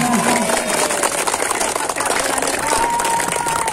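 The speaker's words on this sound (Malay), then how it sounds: "Tepuk tangan semuanya." Applause from a crowd at an elementary school football final prize ceremony, steady dense clapping throughout, with a voice and some background noise mixed in.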